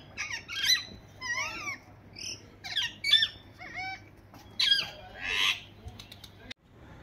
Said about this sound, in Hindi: यहाँ सामने देखो पार्टी चल रही है, कबूतर तोते गिलहरी सब लगे हुए हैं